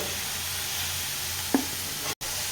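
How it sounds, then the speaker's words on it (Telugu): Broccoli curry fries in oil in a pan with a continuous soft sizzle, interrupted by one brief clink of a stirring spoon and a sudden cut near the end. "మంచిగా డీప్ ఫ్రై అయ్యేదాకా మంచిగా ఫ్రై చేయాలి."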